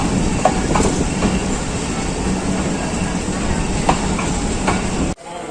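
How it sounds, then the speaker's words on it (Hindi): Awam Express passenger train of Pakistan Railways arriving at Peshawar Cantt station, a steady rolling rumble with clickety-clack wheel beats and occasional metallic squeals, loud and close, cutting off abruptly near the end. "छः 25 पे पेशावर कैंट अवाम एक्सप्रेस पहुंच चुकी है।"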